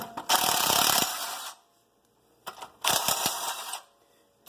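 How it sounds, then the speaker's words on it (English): An impact wrench driving out brake bolts on a 1988-98 K2500 truck, with two loud close bursts of rapid hammering rattle, each about a second long, separated by a quiet pause. "Luckily you can fit that impact in there because it makes it quick, easy work of these bolts"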